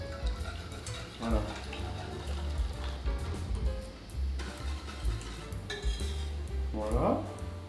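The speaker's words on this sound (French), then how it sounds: "Et là maintenant, je verse dans ma casserole." Liqueur soufflé mixture for Grand Marnier soufflés being poured into a saucepan, with soft stirring and clinking of utensils against pots amid kitchen clatter; a voice speaks briefly near the end.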